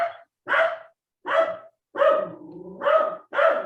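A dog barks six times in quick succession, close and fairly loud, with one longer drawn-out bark in the middle and short silent gaps between the others.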